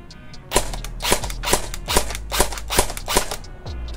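Plastic electric airsoft gun fired in semi-auto, eight sharp single cracks spaced about half a second apart, close and loud with no talking.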